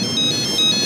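A mobile phone ringtone plays a short repeating electronic melody of bright, pure tones, fairly close and clear over quiet background.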